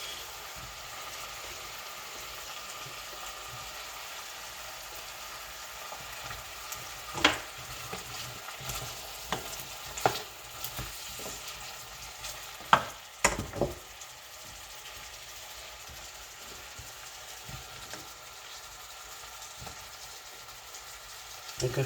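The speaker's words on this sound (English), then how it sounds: "And now they're about to saute." Okra starting to sauté in a pan, a soft continuous frying hiss broken by a few sharp clinks and scrapes, fairly quiet and steady throughout.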